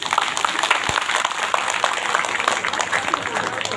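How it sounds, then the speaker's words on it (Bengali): Audience clapping for the teachers at a guardians' meeting at Ramakrishna Math, Antpur: steady, dense applause from a crowd with no speech over it. "আমি সবাইকে অনুরোধ করবো শিক্ষক শিক্ষিকাদের জন্য একটা জোরে হাততালি দিন"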